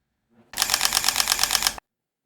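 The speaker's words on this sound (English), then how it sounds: "let's have a listen to that in the mechanical shutter mode" Olympus E-PL10 mirrorless camera firing its mechanical shutter in a rapid burst at 8 frames per second, a dense run of evenly spaced clicks lasting just over a second, close and crisp with no talking.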